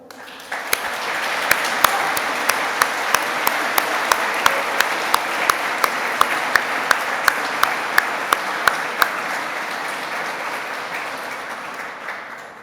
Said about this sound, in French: je vous propose d'applaudir nos professionnels de Mayotte